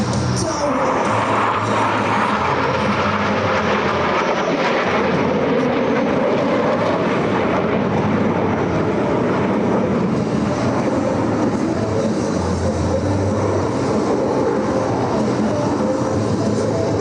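US Navy Blue Angels jets fly the Diamond aileron roll at the 2025 Wings Over South Texas air show, giving a loud, continuous roar of jet engines that swells and shifts without pause while a voice is faintly audible.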